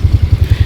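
An old 2014 Honda Vario scooter engine warms up after sitting overnight, a loud close low putter with a steady rapid pulsing beat.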